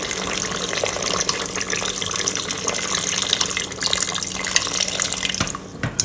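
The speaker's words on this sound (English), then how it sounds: "Now we'll add a little bit of water just to cover the pork up." Water pours steadily and close by for several seconds into a pressure cooker pot of pork ribs, a continuous splashing rush with no talking.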